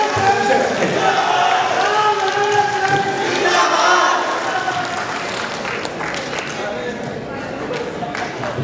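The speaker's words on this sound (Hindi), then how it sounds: "अब मैं आप सभी को कहूंगा कि एकदम खड़े होकर जोरदार तालियों से" Standing crowd at a ward event in a community centre hall claps loudly and steadily, with cheering and voices mixed through the continuous wash of applause.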